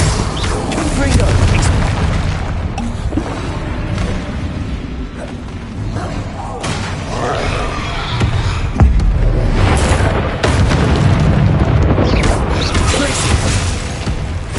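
Confringo fire spells burst in Hogwarts Legacy combat, loud booming impacts landing one after another over game music and effects while a voice shouts spell names.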